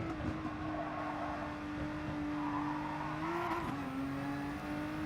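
A video game race car's engine holds a steady drone through corners, dipping and rising in pitch around a gear change, with faint tire noise beneath and no voices.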